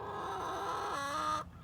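Chickens on a farm being fed compost cluck loudly and close by in a continuous, throaty run that stops abruptly, with no talking.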